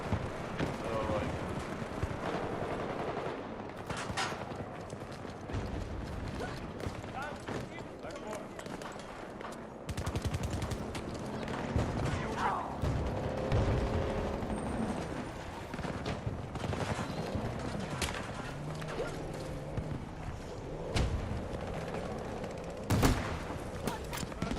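Rapid gunfire rings out during a Battlefield 2042 match on PS5, in repeated bursts and single cracks over running footsteps and battle noise. Someone talks almost continuously over the shooting.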